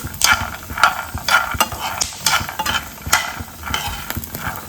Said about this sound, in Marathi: थोड्याशा तेलामध्ये मी शेंगदाणे आणि लसूण थोडंसं भाजून घेते